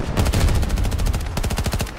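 SMG fire in the shooter Battlefield 2042, loud close automatic bursts of rapid evenly spaced shots, with a brief gap before a second tight volley.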